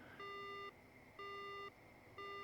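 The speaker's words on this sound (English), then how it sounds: "The line goes dead." Repeating phone tone signalling a dead line in the horror video game Death Mark: three evenly spaced, loud electronic beeps, each about half a second long with a short gap between them, heard alone with no talk.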